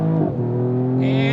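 A 2021 Mercedes-AMG E53 Coupe accelerates hard from a standstill, its engine note climbing steadily in pitch as it revs up, loud and close from inside the cabin, with a brief shift-like dip near the start.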